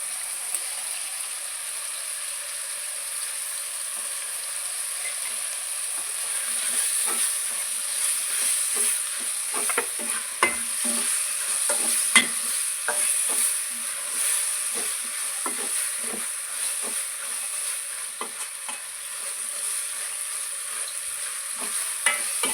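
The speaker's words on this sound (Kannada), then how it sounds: "ಇವಾಗ ಫ್ರೈ ಮಾಡಿಟ್ಟಂತಹ ಬೆಂಡೆಕಾಯಿನ ಇದಕ್ಕೆ ಸೇರಿಸ್ಕೊಂಡು ಮಿಕ್ಸ್ ಮಾಡ್ಕೊತೀನಿ" Fried okra being stirred into a hot pan of horse gram and okra palya, a steady sizzle with frequent light scraping and clinking of a spatula throughout, close and continuous with no talk.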